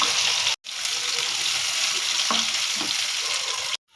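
Onions frying in hot oil with cumin seeds for pulao, a steady loud sizzle with a few faint stirring clicks, broken by a brief silent gap near the start and cut off just before the end.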